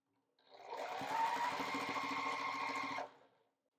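A sewing machine stitches quilt binding strips together in one continuous close whirring run of about two and a half seconds, starting and stopping cleanly.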